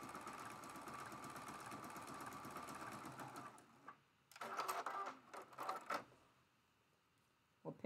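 A sewing machine stitches a quilt border seam in a continuous buzzing run that stops partway through, followed by a few short bursts of stitching with quiet gaps between.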